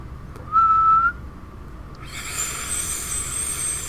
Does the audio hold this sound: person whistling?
yes